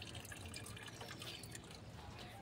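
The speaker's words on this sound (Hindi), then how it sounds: "अभी पानी चल रहा है" Tap water running at home, a faint, steady trickle and patter of flowing water heard alone throughout.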